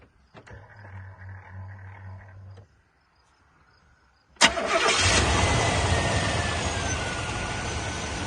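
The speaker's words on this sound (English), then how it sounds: "So we're just gonna go ahead and start it up." A GM truck with a 5.7-liter 350 engine, just fitted with a new MAF sensor, cranks briefly, then catches with a loud burst and settles into a steady, close, roaring idle.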